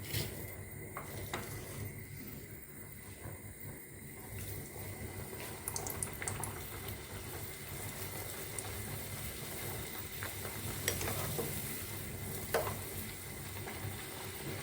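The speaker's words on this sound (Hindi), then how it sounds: "अब मैं पूरियाँ तल रही हूँ।" Puris frying in hot oil, a steady crackling sizzle with occasional clinks of pots and pans, moderately loud and continuous throughout, no talking.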